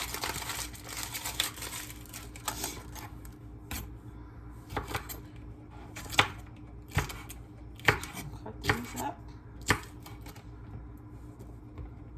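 Onion chopped with a knife on a cutting board for gravy, a dozen or so sharp, irregular knocks near and loud over a low background hum, with no talking.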